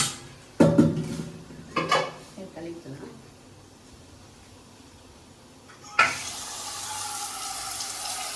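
A kitchen tap runs while dal lentils are rinsed, with clattering pot and dish knocks and people talking in Tamil, then a strong steady stream of water gushes near the end.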